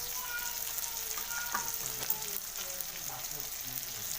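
Food sizzles and fries in a pan on the stove during home cooking, a soft steady crackle with occasional sharper pops and faint stirring, heard alone at low level.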